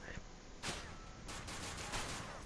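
Gunfire in a Call of Duty: Ghosts cutscene, several loud sharp shots and bursts over a dense, noisy battle soundscape, quite faint overall.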